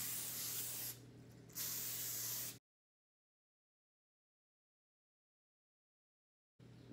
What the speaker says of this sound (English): spray Pam onto the tin foil to make sure the brownies don't stick